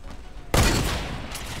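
Burst of gunfire in the battle royale game Fortnite, a loud sudden onset followed by a dense sustained rattle that slowly fades, with a second faint burst near the end.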